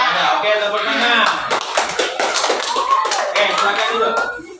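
Classroom hand clapping during a teaching session, a burst of many hands clapping together close by, mixed with children's voices and chatter throughout.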